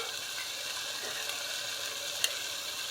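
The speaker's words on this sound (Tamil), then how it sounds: "இப்போ 2 நிமிஷம் ப்ரான் நல்லா வதக்கணும்" Prawns sauté in a pan for a coconut-milk prawn biryani, giving a soft, steady sizzle with a faint sharp clink partway through.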